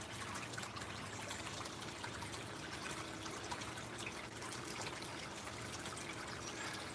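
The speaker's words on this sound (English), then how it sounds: "We're going to turn this micro cleanup, or this Flower Gold Wizard smooth water header box on." Water runs steadily through a Flower Gold Wizard smooth water header box used for sluicing material, a constant, even rushing flow with no talk over it.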